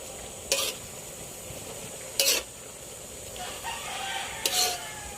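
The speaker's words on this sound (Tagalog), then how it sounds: "Kailangan na nating haluin." Wilted taro leaves for laing stirred in a pan, three distinct bursts of scraping against a low sizzle, with a rooster crowing faintly in the background.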